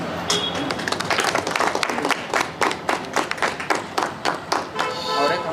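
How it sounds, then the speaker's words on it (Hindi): Crowd applause at a BSP public meeting at Haft Gumbad in Gulbarga as a state coordinator is called onto the stage, brisk clapping that thins into scattered claps, with voices mixed in. "जोर से तालियों के साथ उनको स्टेज पर बुलाना चाहता हूँ।"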